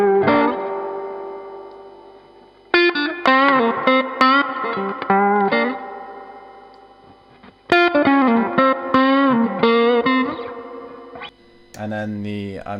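Electric guitar through a Keeley Oxblood overdrive pedal with its fat switch engaged for more bass, playing strummed chords and melodic runs in two phrases that ring out and decay, driven and close, with no talking.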